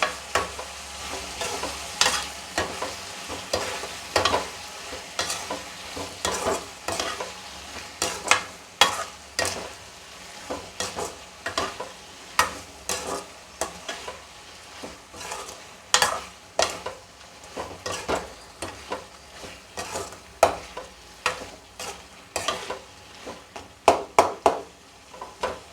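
A ground paste of ginger, garlic, cumin, pepper and fennel sautéed in a pan for mutton curry: repeated close scraping stir strokes over a soft, continuous sizzle, no talking.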